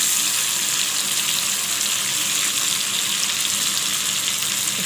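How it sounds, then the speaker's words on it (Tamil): Prawns fry in a hot pan for prawn fry, a steady, loud, even sizzle with a hiss that holds constant throughout, with no voices and no breaks. "இப்போ வாங்க இறாவை பரட்டி போடலாம்"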